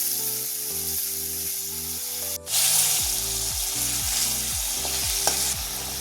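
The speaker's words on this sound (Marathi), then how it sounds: "आता त्यामध्ये मी घालते बारीक चिरलेले बटाटे" Finely chopped potatoes frying in a pan for kanda poha, a continuous close sizzle with a sudden burst as they hit the oil, while a low musical background plays underneath.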